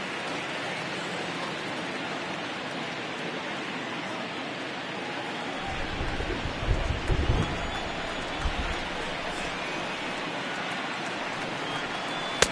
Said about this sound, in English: Really starting to pour now